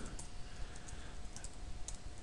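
Quiet, steady computer keyboard typing with soft, irregular key clicks as a command is entered on an Ubuntu machine, heard faintly over a low background hiss with no speech.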